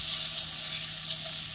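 Garlic sizzling steadily in hot oil in a home kitchen pan, a dense, even crackling hiss that stays loud and constant throughout with no talking.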